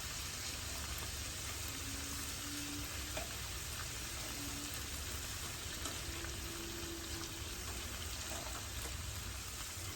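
Large shrimp frying in a pan for shrimp in red sauce, a faint, even hiss of sizzling oil that holds steady without pause, with no voices present.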